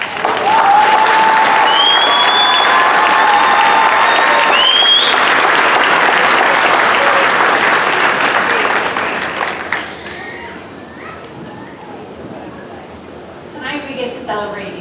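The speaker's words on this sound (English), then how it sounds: "So can we give a big round of applause to everybody?" A graduation audience at the 2019 Fir Ridge ceremony gives the class a long, loud round of applause with scattered cheers. It fades after about ten seconds into murmuring voices.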